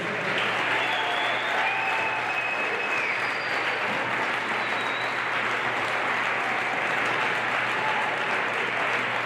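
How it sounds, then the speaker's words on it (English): A crowd at a wrestling tournament gives a long, even round of applause for a coach's 600 wins, steady and fairly distant with a few faint shouts and whistles. "how about another round of applause for 600 wins?"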